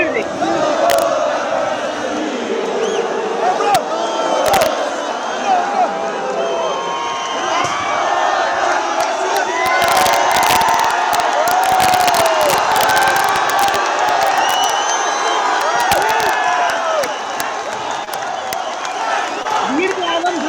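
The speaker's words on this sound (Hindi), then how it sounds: "भीड़ का आलम देख रहे हैं।" A large crowd of men and women protesting against a ruler in the streets, a dense roar of shouting and chanting with cheers and whoops, loud and continuous throughout.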